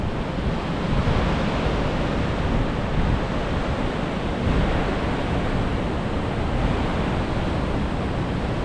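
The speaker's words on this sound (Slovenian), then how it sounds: "tam je dol divja reka, Devil's Bridge, skalni most" A wild river rushes through a rocky gorge below Devil's Bridge, a loud, constant roar of churning water with gusts of wind buffeting the microphone in places.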